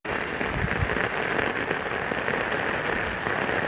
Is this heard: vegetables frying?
no